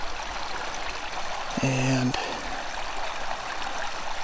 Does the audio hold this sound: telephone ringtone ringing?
no